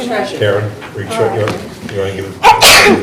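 A single loud, sharp sneeze bursts out near the end of a brief exchange of talk during a board meeting.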